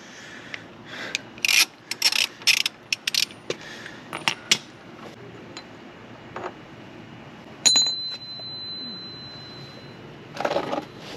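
Ratchet with a 27mm socket working the sprocket nut loose on a ZX6R motorcycle: bursts of quick metallic clicking and clinks in uneven clusters, fairly close, with a brief high whine near the middle and no talking.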